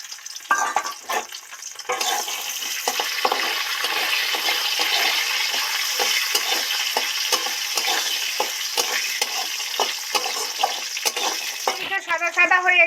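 Lentil bori (masoor dal badi) frying in hot mustard oil for bitter gourd chochhori, a steady dense sizzle with repeated stirring scrapes and clinks running throughout, close and fairly loud.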